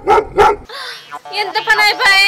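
A dog gives two loud close barks, then whines and yelps in a drawn-out, rising series of short cries.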